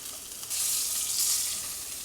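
Steady sizzle of sous vide cooked meat searing in a hot pan with salt and pepper, loud and close, swelling as the meat is turned, no voices.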